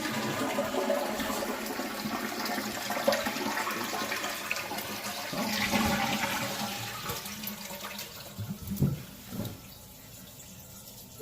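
A leaking toilet runs water steadily, a close, hissing and gurgling flow that swells midway and ends in a few sloshing splashes, with no speech.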